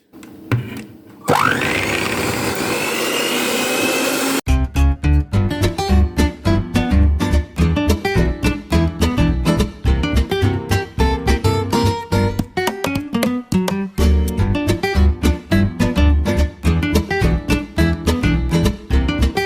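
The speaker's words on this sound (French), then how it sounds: "vous n'avez plus qu'à le mélanger au batteur électrique" An electric hand mixer whirs through tiramisu cream in a loud, steady whine lasting about three seconds near the start, followed by rhythmic music.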